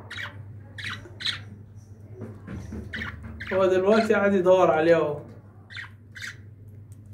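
A pet bird squawks in a loud, harsh, wavering burst mid-clip, with scattered sharp chirps before and after, while a person speaks quietly in Arabic.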